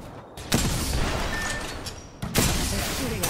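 Gunfire in Apex Legends, with bursts of shots crackling across a busy, dense mix, two sharp onsets opening sustained volleys.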